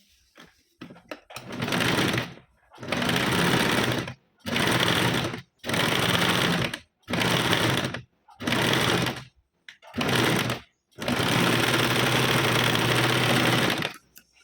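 A sewing machine stitches a cross strip onto a blouse in several bursts of steady whirring, each lasting about one to three seconds with short pauses between, close and loud, ending in one longer run.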